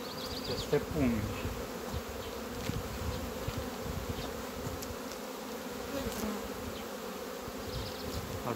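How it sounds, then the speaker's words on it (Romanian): A dense, continuous drone of many honeybees buzzing close by at the hive, steady and loud throughout, with a few individual bees passing nearer. "Albina aduce foarte bine polena azi."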